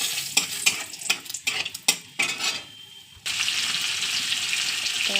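Cinnamon, cloves, cardamom and bay leaf dropped into hot oil after frying eggs, with spoon scrapes and clinks against the pan at first, then a sudden loud continuous sizzle taking over.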